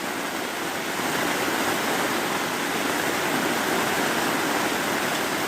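Heavy rain pours steadily during a summer thunderstorm, a dense, loud, unbroken hiss close by with no thunder cracks standing out and no voices.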